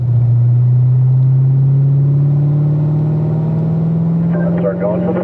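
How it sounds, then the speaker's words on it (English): A race car accelerating down the straightaway up to 5th gear, a loud steady engine drone slowly rising in pitch, heard from close by with talk over it. "let's keep accelerating down the straightaway here, up to 5th gear."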